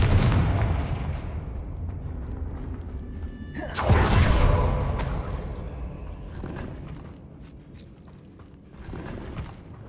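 Confringo blast spell from the video game Hogwarts Legacy, a loud booming explosion that bursts out and then rumbles and crackles away, followed by scattered mechanical clanks and a second smaller burst.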